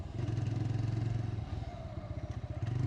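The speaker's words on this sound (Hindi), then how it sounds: "साइलेंसर का साउंड एकदम बढ़िया देता है" A TVS Raider 125 motorcycle, a 125cc bike, growls steadily through its silencer while accelerating, with a loud, close, pulsing exhaust note that dips briefly midway before climbing again.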